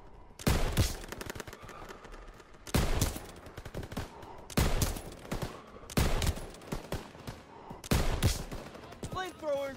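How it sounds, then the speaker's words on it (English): Machine guns firing in a Call of Duty WWII battle to hold a bridge over the Seine: loud, repeated bursts of automatic fire at steady intervals over constant battle noise, with voices faintly heard. "MGs, open fire. Keep them off that bridge."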